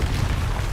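A Confringo blasting spell from Hogwarts Legacy detonating as a short, heavy, low boom that fills the moment, loud and close, with no voice over it.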